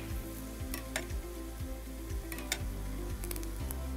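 Medu vada, an urad dal fritter, frying in hot oil with a steady low sizzle and scattered crackling pops, plus faint rhythmic low thumps recurring throughout, with no talk.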